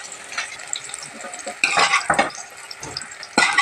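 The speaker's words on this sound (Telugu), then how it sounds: "ఆయిల్ వేడి కింద ఆయిల్లో పోసుకుందాం. బాగా వేపుకోవాలండి. బాగా వేపుకుందాం." Bitter gourd fries in hot oil for a Telugu chutney, a steady crackling sizzle with stirring scrapes and clinks of a spoon against the pan, close and fairly loud.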